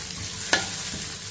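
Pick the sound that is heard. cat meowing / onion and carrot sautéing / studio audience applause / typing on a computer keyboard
onion and carrot sautéing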